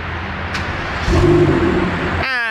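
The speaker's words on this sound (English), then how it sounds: "And we've just turned on a V12 using a key." A BMW M760Li V12 starts from the key fob: a low rumble swells about a second in and settles into a steady idle drone, heard close, with no talk over it.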